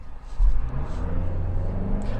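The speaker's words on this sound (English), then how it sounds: "Let's get to a stop here and do a nice acceleration from 0 to 60" A 2024 Toyota Land Cruiser pulls away hard from a stop, its engine rumble swelling quickly and then holding a steady, loud drone of acceleration without pause.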